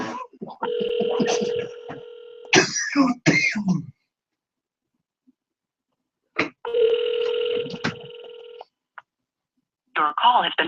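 A telephone call rings out on the line in two long bursts of steady electronic ringing tone, separated by a silent gap, with people talking and clearing their throats around the rings.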